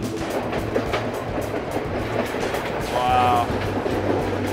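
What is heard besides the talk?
train clickety-clack while riding through Sri Lankan tea country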